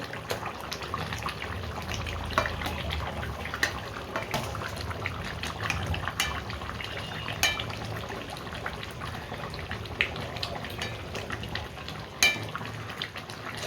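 Eggplant frying in a curry with katla fish head, a continuous close bubbling sizzle with scattered sharp pops and clicks of stirring throughout, no voices.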